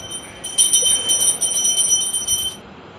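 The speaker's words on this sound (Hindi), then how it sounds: "घंटी बजा के आरती दो और मंदिर में जल रखो ना" A small hand bell rung during a Hindu aarti worship at home, a rapid, bright metallic ringing that carries on for about two seconds at moderate loudness over a quiet room.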